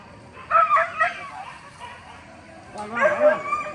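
A dog gives a few high yelping barks and whines during a hunt, close by and loud, with people's voices in the background.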